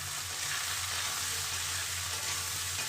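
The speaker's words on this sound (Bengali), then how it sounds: "এবার পেঁয়াজটাকেও দিয়ে আমি আলুর সঙ্গে পেঁয়াজটাকে লাল করে ভেজে নেব।" Onions fry with potatoes in a pan, a steady close sizzle with faint stirring throughout and no talking.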